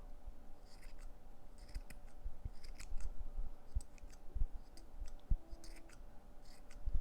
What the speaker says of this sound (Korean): 가위가 잘 안 되네요.